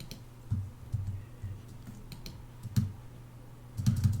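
Computer keyboard keys tapped in short irregular bursts during a copy-and-paste edit of a script, faint and close, with quiet gaps between clusters of clicks.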